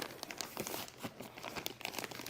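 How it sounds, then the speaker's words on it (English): Plastic crinkling and rustling, a thin bag being handled up close in a continuous run of crackly bursts. "It's just plain clear bag."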